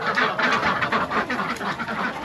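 A flock of farm ducks quacks in quick, repeated bursts close at hand, the calls overlapping in a busy burst of sound.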